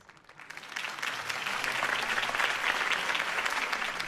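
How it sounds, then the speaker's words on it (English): A crowd applauds after Harvey Dent's mayoral campaign speech in Gotham City in Batman: The Telltale Series, clapping that swells from quiet to a sustained, dense roar and holds steady to the end. "could have heard that applause"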